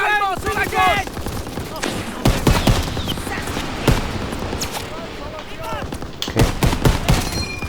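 Bursts of gunfire and machine-gun fire in a World War II-style combat video game, loud sharp volleys scattered through the clip with soldiers' voices speaking over them.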